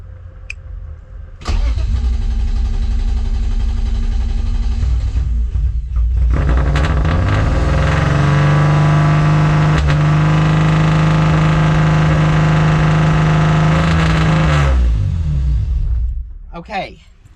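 A BMW E36 running a Link ECU starts up and its engine revs high. It holds a loud, sustained high idle for several seconds before dropping away, and the car is right up close.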